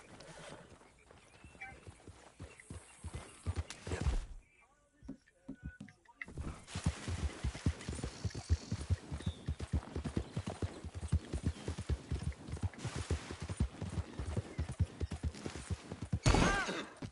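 Hooves clip-clop in a steady rhythm in Red Dead Redemption 2, with a horse whinnying near the start and again at the end, close and fairly loud.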